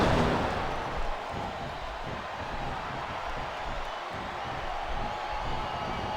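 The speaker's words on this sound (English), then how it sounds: "these superstars are getting some feedback from the crowd, JR." An arena crowd cheers and roars in a WWE 2K24 Royal Rumble match, a broad, steady wash of noise sustained throughout without clear breaks.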